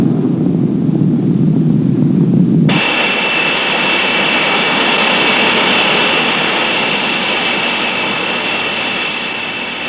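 A Boeing B-47 bomber's jet engines roar steadily in flight during aerial refueling with a tanker, a loud, continuous broadband whine that starts low and muffled, then opens abruptly into a bright, hissing jet roar that holds for the rest.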